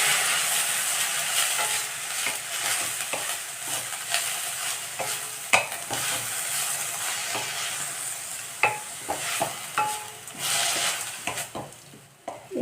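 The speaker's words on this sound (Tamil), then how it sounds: "முருங்கைக்கீரையை நல்லா வதக்கிடலாம்" Drumstick leaves sauté in a pan for a thuvaiyal, giving a steady close sizzle with scraping stir strokes and spatula clicks throughout, and no talking.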